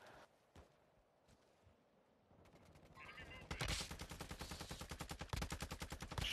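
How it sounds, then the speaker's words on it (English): Gunfire in a video game shooter: after a quiet stretch, rapid automatic bursts build up and then rattle on loudly and steadily as dense, evenly spaced shots. "Being shot from far left."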